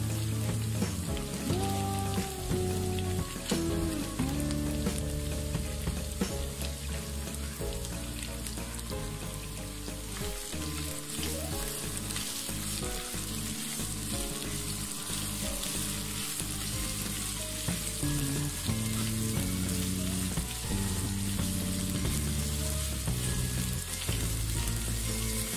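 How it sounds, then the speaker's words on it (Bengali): Capsicum and other vegetables for Thai egg noodles sizzle in a pan, with a continuous crackling fry running under background music and no talk. "ক্যাপসিকামগুলো দিয়ে দিচ্ছি।"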